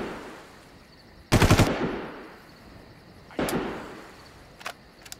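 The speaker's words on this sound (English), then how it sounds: "That one single little shot is when it got him." Gunfire in the video game Far Cry: two sharp bursts of rapid shots with echoing tails, followed by a brief faint third report, with no talk.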